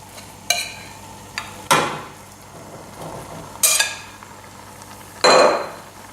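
Ground turkey and adobo sauce being stirred together in a chili pot, a few separate bursts of spoon scraping and clinking against the pot with quiet gaps between them.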